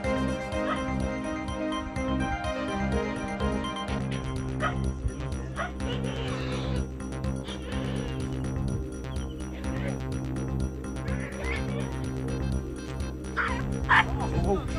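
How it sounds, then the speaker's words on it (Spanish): A stray dog fighting an anaconda yelps, whimpers and barks again and again for the whole stretch, its cries rising and falling over a steady background drone. "la lucha entre un perro callejero, y una anaconda que intentaba estrangularlo para devorarlo"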